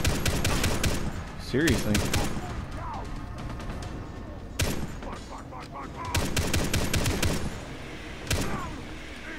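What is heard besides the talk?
mounted gun firing in the video game Far Cry 3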